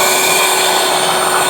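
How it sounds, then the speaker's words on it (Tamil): An electric mixer whirs at high speed, beating a marshmallow mixture of melted sugar syrup, giving a brief, loud, steady buzzing hum up close. "இப்போ இது ரெண்டும் சேர்த்து ஹை ஸ்பீடில் பீட் பண்ணி எடுத்துருவோம்."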